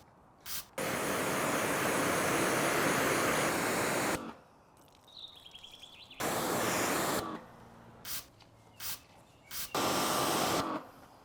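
Bursts of ceramic coating spray on a Ferrari 812 Superfast: a long aerosol hiss followed by several shorter sprays with pauses between them, close and fairly loud.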